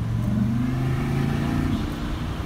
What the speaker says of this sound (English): You hear the wastegate and you get all that torque and a little bit of compressor surge